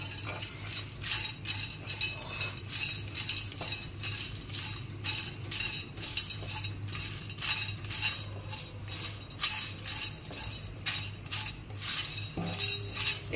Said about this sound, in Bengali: এই যে এটা প্রথমে একটু ভেজে নেব খালি কড়াইতে